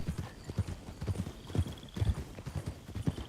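Horse hooves clip-clop steadily in a video game as a horse is ridden toward Saint Denis, an even rhythmic trot with close, distinct beats under faint background ambience.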